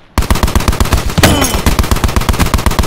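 Rapid automatic gunfire in Call of Duty Black Ops 4 Blackout, a fast steady stream of loud, close shots with a sharp burst of debris or impact noise partway through.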